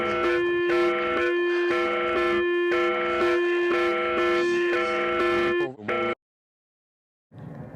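Russian emergency alert system alarm: a loud, rich harmonic buzzing tone pulsing in steady repeated bursts for about six seconds, then an abrupt stop, silence, and a fainter noise at the end.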